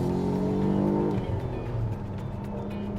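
Powerful hatchback engine revs while driving, a steady, fairly loud engine drone with a rising tone early on, then continuing under road noise.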